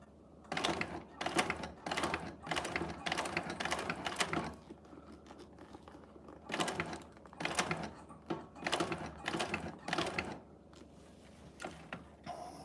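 Sewing machine stitching leather for a bag, run by taps of the pedal, giving close mechanical clattering bursts in two groups separated by a quieter pause, with no talking.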